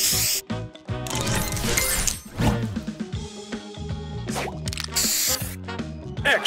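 A spray booster going off in the Match Masters puzzle game: bursts of hissing spray mixed with squishy pops, tinkling chimes and clinking tile effects, loud and busy with no talking.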